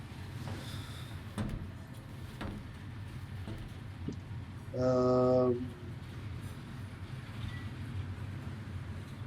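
Inside a moving train in Final Fantasy XV, a steady low rumble of wheels and carriage runs throughout, with a few faint clicks and a short tonal horn-like hum rising briefly near the middle.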